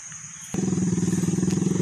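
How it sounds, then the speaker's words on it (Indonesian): A Honda Grand motorcycle engine starts abruptly and settles into a steady, loud, close idle with a fast regular chugging pulse, no talk over it. "menuju ke motor saya ya, naik Grand dulu ya"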